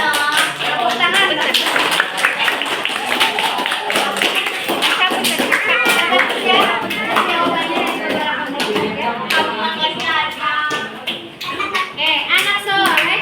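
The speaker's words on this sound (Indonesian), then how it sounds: "Tepuk tangan." Schoolchildren in a classroom clap their hands over a sustained stretch, the claps quick and clustered and mixed with loud overlapping children's voices and chatter.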